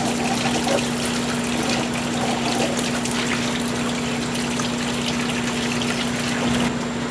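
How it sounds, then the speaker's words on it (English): Water flows into an aquaponics system to flush out dirt, a continuous gushing trickle over the steady hum of a pump, close and even throughout. "put a little bit of water in the system, kind of flush some of this dirty stuff out of here"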